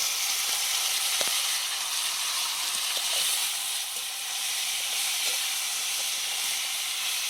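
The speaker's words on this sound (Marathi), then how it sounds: "कांदा चांगला तळून घेतला लाल जरत आता हे मटकी आणि वाटाणा आणि बटाटा टाकून दिली त्यात" Onion, moth beans, peas and potato fry in a pan with a steady, loud broadband sizzle and hiss, with a few faint stirring clicks, and no voice over it.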